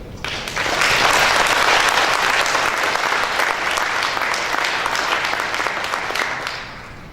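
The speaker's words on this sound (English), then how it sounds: "in her absence we should actually applaud her" Sustained applause from a conference audience at an opening ceremony, honouring an absent life-membership award recipient; dense, steady clapping that swells in quickly and holds for several seconds before tapering.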